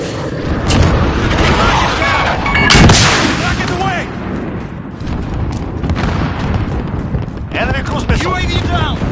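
Artillery strike in a Modern Warfare video game, with heavy booms and rolling blasts that pound continuously at close range, while radio-style voices talk over the barrage.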